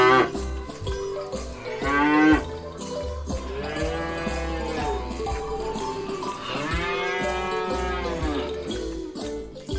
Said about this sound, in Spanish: La vaca.